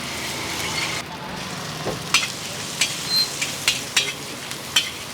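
Chicken frying at a roadside fast food stall, a continuous loud sizzle of oil with sharp clinks of a metal ladle against the pan at irregular intervals, and a voice speaking briefly.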